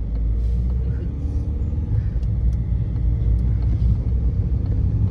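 Triumph Tiger 900 Pro motorcycle engine running: a steady low idling rumble that stays loud and close throughout the whole stretch, with a faint scattering of background sounds around it.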